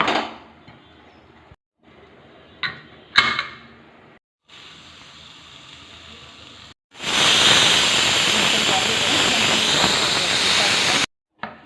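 A pressure cooker of biryani releases its pent-up steam after two whistles, a loud, steady rushing hiss lasting about four seconds that follows several quieter kitchen clatters and knocks, then cuts off abruptly.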